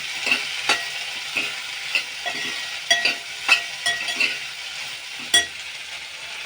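A paste of fresh coconut, garlic, green chili and salt stirring in a hot frying pan, with soft sizzling and a series of light spoon clinks and scrapes against the pan, close and steady with no talking.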